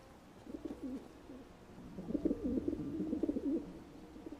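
Pigeons cooing in modded Skyrim, a run of throaty, rolling coos in two bursts with a busier second half, close and fairly clear with no talking.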